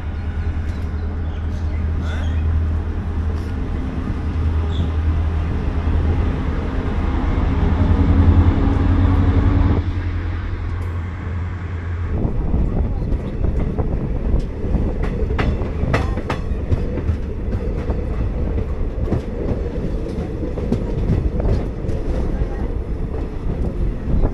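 A long-distance passenger train on the Mumbai to Srinagar route rumbles steadily along the rails, with a loud continuous low roar, rattling carriage noise and intermittent clacking; the tone shifts partway through as the wheels and surroundings change.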